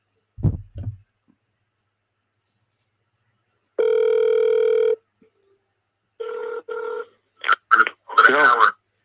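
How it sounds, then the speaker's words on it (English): A phone line tone plays, then a few short touch-tone beeps as a number is dialed to call back a caller, brief and clear against near silence, with a short low voice at the start. "I'm just going to call him back. 773."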